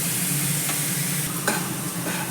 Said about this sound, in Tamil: வெங்காயத்தை எண்ணெயில் வதக்கி விட்டு